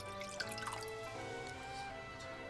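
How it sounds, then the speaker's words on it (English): Water pours into a pan to make a steaming bath for Japanese steamed bread (mushipan), a steady close trickle and splash with a few brighter drips, no voices. "we're going to add some water into the pan to get it ready for when we're going to steam our Mushipan"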